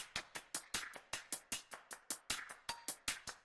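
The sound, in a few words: programmed pop drum track with hi-hat groove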